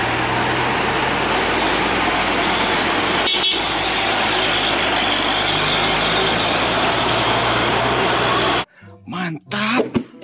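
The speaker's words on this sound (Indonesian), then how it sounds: "Di sini ada mobil dump truck long sasis panjang" A big long-chassis dump truck's engine rumbles loudly and steadily close by, with a short horn-like blip midway, before cutting to quieter moments with voices.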